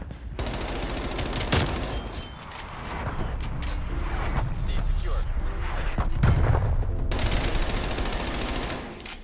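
Sustained, loud gunfire from an MP5 and other weapons in the Call of Duty Cold War video game, with dense overlapping bursts and booms filling the whole stretch, steady throughout.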